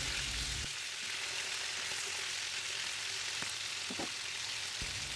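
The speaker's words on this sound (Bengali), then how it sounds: "মাছের অপর পিঠ ভাজার জন্য আমি মাছগুলো উল্টিয়ে দিলাম।" Pomfret fish frying in a pan after being flipped, a steady close crackling sizzle with a few brief clinks of a utensil, no talking.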